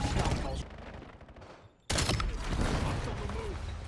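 Automatic gunfire in the Black Ops 7 beta, a loud dense burst of rapid shots that cuts out briefly, then a second sustained volley, with game effects and a faint voice mixed beneath.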